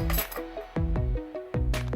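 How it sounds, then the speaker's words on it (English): Keys knocked over onto a hard surface, giving a few sharp metallic clinks and jangles in quick succession, close and fairly loud, with ringing tones that decay between hits. "I knocked over my keys"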